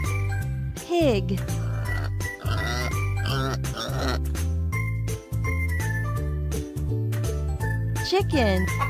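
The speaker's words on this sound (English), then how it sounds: "Pig." Pig grunts and oinks pop up over a bouncy, jingly music track, several short snorts scattered throughout.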